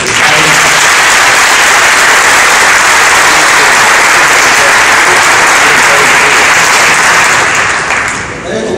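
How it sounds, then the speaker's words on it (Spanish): A church congregation claps together in sustained, loud applause that fills the room, holding steady for several seconds before thinning out slightly at the end. "¿Por qué no le aplaudimos a Dios?"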